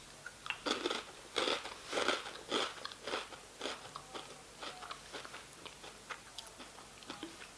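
Dry Harvest Morn honey nut pillows, wheat shells with a honey filling, crunched close up in a quiet room: a run of sharp bites and crunches, then softer, irregular chewing crackles.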